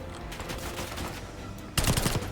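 Automatic PP90 fire in the Call of Duty Black Ops 6 campaign, a sustained rattle of shots under game noise, growing louder and sharper in a dense burst near the end.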